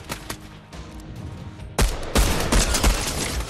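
Rapid gunfire in the video game Fortnite Creative, a dense burst of repeated shots growing louder midway and continuing to the end.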